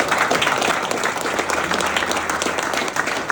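Dense, steady clapping from an indoor crowd welcomes a rider at an indoor motorcycle trial event in Narbonne, loud and continuous throughout.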